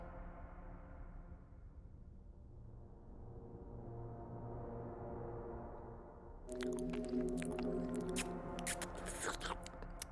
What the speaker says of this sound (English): Oh, the slurping sounds I could do without.